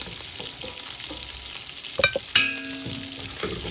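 Italian sausage browning in a pan, giving a steady low sizzle with a few sharp scraping and clinking sounds near the middle, close and fairly quiet, with no voices.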